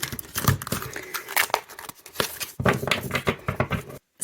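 Large, shiny tarot cards being shuffled by hand, giving close, papery crinkling and rapid flicking bursts in uneven clusters, with a brief pause near the end and no speech.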